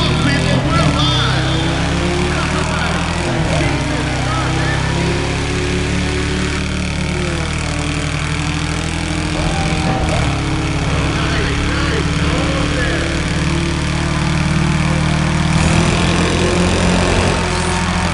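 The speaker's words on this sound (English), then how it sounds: "Will you listen to those engines?" Steady droning racing car engines in the video game Need for Speed ProStreet rev and hum continuously, idling and revving at a race start, loud and close with a constant buzzing texture.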